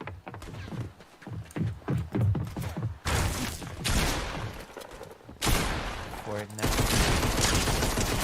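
Gunfire in a video game, rapid bursts of shots in quick clusters alongside harsher sustained blasts, loud and close, with some voices mixed in.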